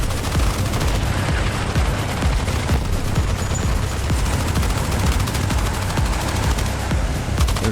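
Dense infantry gunfire from the Armored Brigade 2 war game, rapid overlapping rifle and machine-gun bursts crackling continuously without a break, loud and close with distant booms mixed in.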